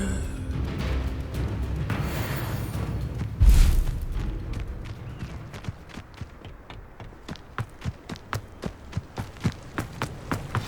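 A Confringo fire-blast spell explodes in Hogwarts Legacy: one short, deep blast rises out of rumbling background action, followed by a string of quick, light footsteps.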